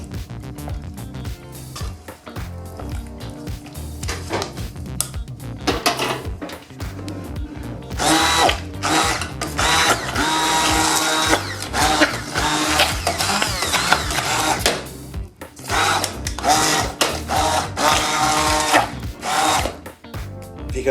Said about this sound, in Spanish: cuando yo le doy con la mini pimer ayudo que el aceite que se está escapando se vuelva a meter